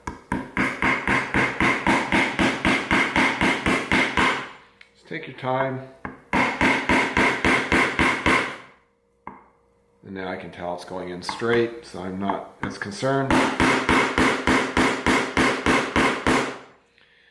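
Rapid, steady hammer taps in long bursts, pounding a part into a Crankbrothers Eggbeater 11 bicycle pedal during servicing, close and loud, with someone speaking briefly in the pauses between them.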